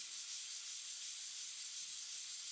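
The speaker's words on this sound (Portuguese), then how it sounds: "Aí você vem lixando de levinho." Light sanding across a wall putty joint, a soft, continuous high hiss of abrasive rubbing, close and even, with gentle swells in strokes and no talk.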